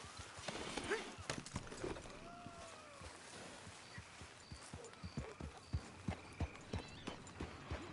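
Horse hooves clip-clop at a gallop in the western game Red Dead Redemption 2, the rhythmic thuds growing louder and more regular toward the end, with scattered game voices and ambience around them.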